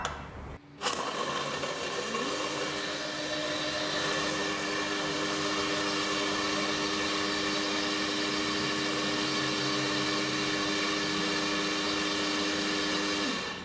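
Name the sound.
blender blending ice drink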